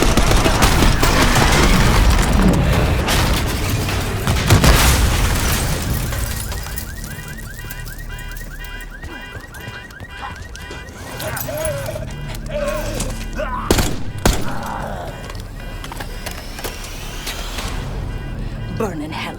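Heavy gunfire in a Call of Duty: Black Ops 6 street ambush on a limousine, dense loud shooting up front that thins out, with shouted voices, vehicle noise and scattered later shots.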